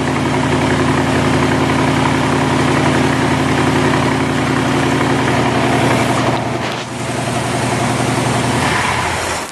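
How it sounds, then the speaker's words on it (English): A 1966 Corvette Stingray with a 327 V8, body off and still partly on choke, idles smoothly. The close, steady low rumble runs throughout, with a brief dip partway through. "real nice idle, nice motor. I tell you, there's nothing nicer than a hot 327."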